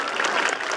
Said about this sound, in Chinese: 借用你的双手，我们来为今年第十一届才加入的嘉义市新加入的小朋友一个鼓掌